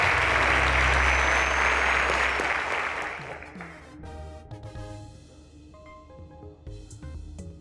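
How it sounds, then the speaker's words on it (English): A studio audience at a televised quiz show breaks into loud, dense applause that holds for about three seconds, then tapers off into scattered claps and low background noise. "A round of applause to her,"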